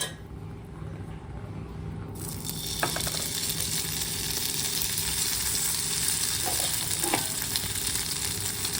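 Paneer pieces frying in oil in a non-stick pan, giving a steady loud sizzle that jumps up about two seconds in and continues evenly, with a few faint clinks over it.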